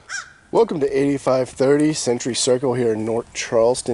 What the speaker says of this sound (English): you heard a bird chirping flying over